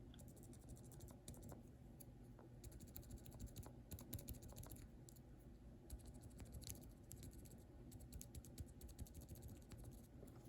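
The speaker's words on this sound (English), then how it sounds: "I do have a lubed Kailh box silent pink here. So here is the silent linear." Typing on lubed Kailh Box Silent Pink linear keyboard switches makes soft, muffled, quiet keystrokes in an irregular, continuous patter, close up, with no voices.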